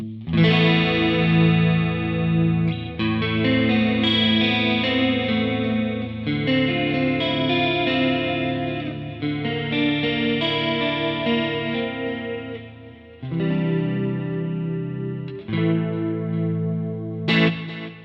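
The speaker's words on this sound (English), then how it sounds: "I've added in the compression and modulation, a chorus effect, and a delay, which is a digital delay." Electric guitar chords ring out with compression, a shimmering chorus, repeating digital delay echoes and a smooth plate reverb wash, played alone for several phrases.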